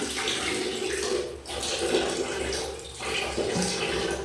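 Running water splashes steadily as something is washed under a tap, a continuous close rush with small surges and dips and no talking.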